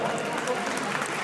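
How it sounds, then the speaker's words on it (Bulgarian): Crowd applause at an indoor motocross arena event, a steady dense wash of clapping filling the hall throughout, with voices mixed in. "Аплодисменти за германците, всички обичаме германци."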